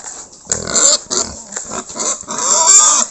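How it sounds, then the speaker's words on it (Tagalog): Pigs being fattened at the grower stage squeal and grunt loudly and close by in short, overlapping bursts as they wait eagerly for their feed. "Gusto nang kumain ang mga baboy."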